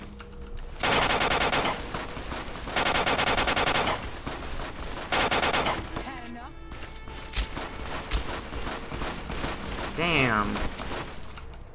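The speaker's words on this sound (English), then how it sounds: "What gun is that? That's like the Call of Duty World of War gun." Gunfire from a weapon in the video game Fallout New Vegas: sustained bursts of rapid automatic fire in several loud volleys, separated by shorter pauses, with scattered single shots and a swooping effect near the end.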